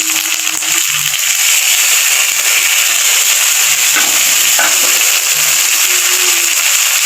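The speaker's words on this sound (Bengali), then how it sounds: "একটু কাঁচা লঙ্কা দিয়ে দিচ্ছি, আর 2 কোয়া রসুন দিয়ে দিচ্ছি, আর একটুখানি আদা দিয়ে দিচ্ছি" Green chili, garlic and ginger sizzle loudly and steadily in hot oil as they fry while fish is being cooked, with a constant bright crackle and occasional soft stirring bumps.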